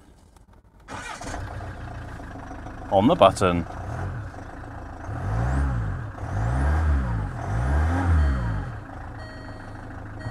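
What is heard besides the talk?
Range Rover Evoque engine starting and revving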